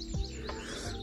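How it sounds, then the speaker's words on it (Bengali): A brief bird chirp in the morning countryside of the Cotswolds, a quick faint tweet heard over a low background hum. "আর খুবই সুন্দর পাখির একটা কিচিরমিচির শব্দ।"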